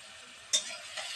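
Brinjal with neem leaves, salt and turmeric fries quietly in oil in a pan, a soft continuous sizzle with one sharp utensil clink partway through and a brief swell near the end.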